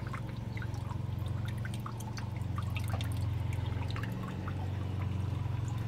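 Water drips and trickles from a U-Flex siphon draining a full aquaponics grow bed on a front porch, a steady close splashing and pattering over a constant low pump hum.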